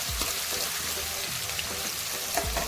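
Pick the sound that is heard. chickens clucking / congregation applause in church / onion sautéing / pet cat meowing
onion sautéing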